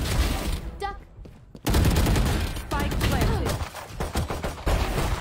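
Gunfire in Valorant crackles in rapid bursts after a brief quiet moment, loud and close, with a player's voice talking over the shots.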